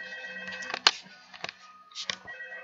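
Telephone ringing in the horror video game Five Nights at Freddy's 2, a few short electronic rings separated by pauses, faint and set against a steady droning game background.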